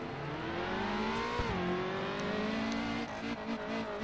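A race car engine at Anderstorp in the video game Race Pro, revving hard and steady as it accelerates, with a brief dip as the gear changes, loud and close.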